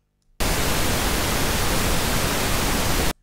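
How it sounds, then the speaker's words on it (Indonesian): A steady wash of test pink noise, like soft rain or rushing air, starts abruptly, holds at an even level for about three seconds, then cuts off. "Nah, ini adalah suara pink noise"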